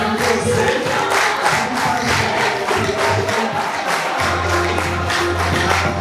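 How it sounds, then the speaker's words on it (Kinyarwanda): Audience at a children's choir song festival breaks into sustained, dense applause and crowd noise, loud and steady throughout with a rhythmic clapping texture. "twamusabiye amashyi"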